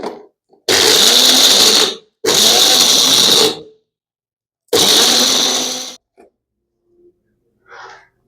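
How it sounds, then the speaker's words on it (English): A kitchen grinder whirs loudly as it grinds almonds and sugar into flour for marzipan, running in three sustained bursts with short pauses between them. "So let's grind it"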